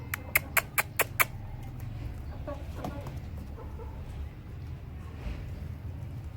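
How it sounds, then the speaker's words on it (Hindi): A shamo hen and her chicks cluck on a farm: a quick burst of five sharp, loud clucks opens, then softer scattered clucking and faint peeps continue over low background noise. "मुर्गी नहीं बैठने देती, मुर्गी बस पीछे लगी रहती है इनके।"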